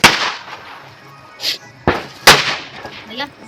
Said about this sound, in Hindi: ये हो गया था हम लोगों का बम पटाखे वाला सिस्टम शुरू।